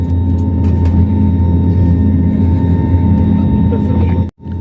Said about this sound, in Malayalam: ടേക്ക് ഓഫ് പൊസിഷനിലേക്ക് പോവുകയാണത് റൺവേയിലേക്ക് മൂവ് ചെയ്യണത്